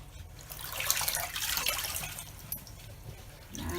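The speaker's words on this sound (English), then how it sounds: "now just take it and rinse it out." Tap water runs steadily over tea-dyed fabric being rinsed out after soaking in a vinegar solution, a bright splashing stream that rises and falls as the cloth is moved under the flow.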